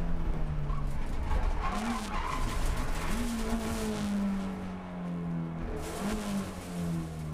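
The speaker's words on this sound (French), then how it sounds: "Christian Ostert pouvait avoir de gros regrets après avoir perdu énormément de temps dans un bac à gravier" An Abarth 500 race car at Zolder skids into a gravel trap, its engine droning steadily with pitch rising and falling as gravel crunches under the tyres, heard from inside the car with no talk.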